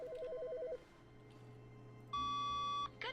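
An office phone rings in The Stanley Parable: a warbling electronic ring pattern, then a steady, higher beeping tone of about a second, clear and fairly quiet over a low hum.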